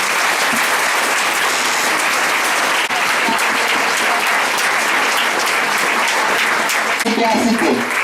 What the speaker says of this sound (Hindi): कई बार प्रभु की महिमा करिए जोरदार ताली से।